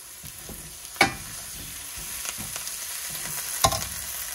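Oil sizzling steadily in a pan as fresh coriander is stirred in, with a couple of sharp scraping clinks of the spoon against the pan over the continuous frying hiss.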